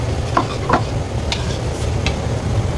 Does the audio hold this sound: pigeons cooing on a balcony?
no